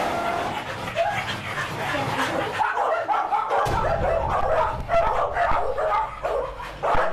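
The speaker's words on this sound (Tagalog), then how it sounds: "Di magkamayaw na tahol ng mga aso ang agad na sumalubong sa akin." Many pit bulls in a crowded hoarder's house barking all at once, a loud, near, continuous chaotic chorus of barks, yips and whines with overlapping voices underneath.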